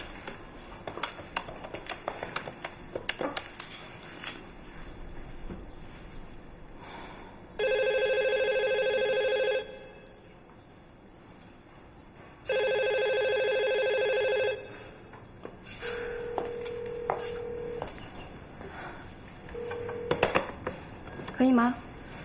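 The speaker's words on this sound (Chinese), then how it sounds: "要不然我先打个电话吧" A telephone in a home scene from a TV drama rings in two loud, steady bursts a few seconds apart, with quiet talk in the room before and after.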